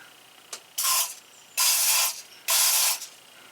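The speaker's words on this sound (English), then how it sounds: "I'm going to spray a little bit of" Three long bursts of aerosol lubricant sprayed up into the rusty, jammed spare tire winch mechanism under a 2009 Ram pickup, with a small metallic click before the first; the close, loud hissing is separated by short pauses and no one talks.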